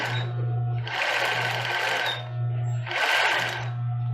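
A sewing machine stitches a bra in two bursts of rapid needle chatter, separated by a brief pause for backstitching, over a steady motor hum, close and loud with no talking.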